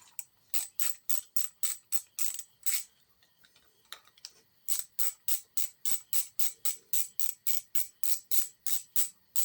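A ratchet wrench clicks steadily on the 5/16 nuts of a Stihl FS45 string trimmer, in fast even bursts of ratcheting with a brief pause midway, close and loud with no talking.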